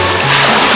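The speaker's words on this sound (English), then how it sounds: "Tough waves. Oh, waves." Ocean waves splash and wash around a swimmer off a tropical island beach with clear green water, a short, steady, close rush of surf filling the moment without talk.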